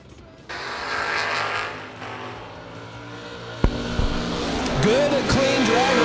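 Drag race cars, including a 1970 Duster and an S10, launch at a door car duel with a loud sustained engine roar, a sharp bang midway, and rising, wavering engine tones.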